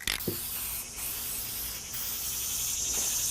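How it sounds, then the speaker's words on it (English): Spray can applying wood stain to a door, giving a steady, close hiss that runs continuously with only slight dips, and no talking. "I use even spray strokes with it. I keep the can a few inches away."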